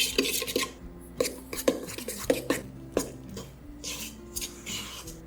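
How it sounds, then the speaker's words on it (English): Flour is stirred into liquid ingredients for Danish pastry dough, making close, rhythmic scraping and clinking of a utensil against a bowl with short rubbing swishes between strokes. No one speaks. "I'm gonna add this to my liquid ingredients while slowly stirring"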